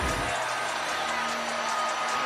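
A crowd at an Alabama women's basketball game roars, with a steady wash of cheering and shouting from many voices that holds throughout, loud and close.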